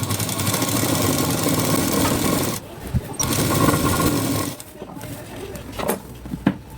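A sewing machine stitches the front panel of a Savyasachi-style blouse, running in steady loud bursts with two brief pauses near the middle and end.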